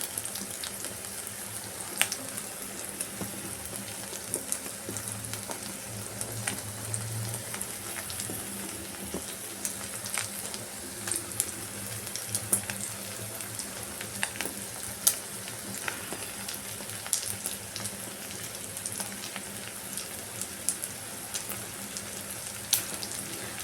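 Eggplant, eggs and cheese bubble and sizzle steadily in a pan, a continuous close, fairly quiet frying hiss with small pops and crackles throughout and no talking.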